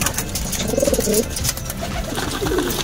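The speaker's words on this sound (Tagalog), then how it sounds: "At yan guys, ang dami-dami na ng ating mga ibon, no?" Racing pigeons of Taiwanese, Belgian and Tournier lines coo in a loft, with several soft, throaty calls rising over a dense, busy background of birds.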